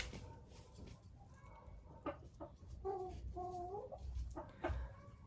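Maran hens and a rooster give soft clucks and short warbling calls at close range over faint background noise, the sounds coming in several separate bursts.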